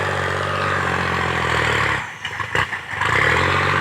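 A farm tractor engine chugs steadily at close range, briefly dipping and sputtering midway before returning to a loud, continuous rumble.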